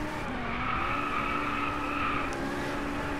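A Ferrari race car in the Driveclub racing game on a Japanese circuit drones with a steady, sustained engine tone and tire noise throughout, loud and continuous, with no talking.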